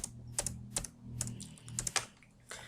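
Keystrokes tap out a command on a computer keyboard during basic Cisco router configuration, a few quick clusters of close, crisp clicks with short pauses between them, ending in a final keypress.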